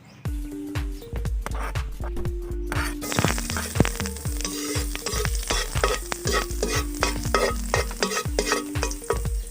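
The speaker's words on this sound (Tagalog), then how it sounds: "At unang nating igigisa itong ating luya" Ginger sautés in hot oil in a pan for a Bicolano natong dish, sizzling steadily while a spatula strikes and scrapes the pan in repeated sharp knocks.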